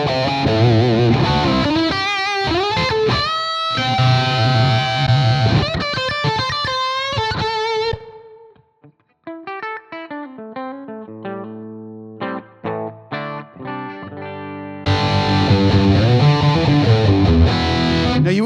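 An electric guitar played through a signature amp simulator into an amp line gives heavily distorted, saturated riffs, then a thinner passage of separate notes and gaps, before the full driven tone returns, loud and close.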